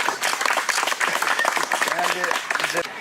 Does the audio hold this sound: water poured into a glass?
no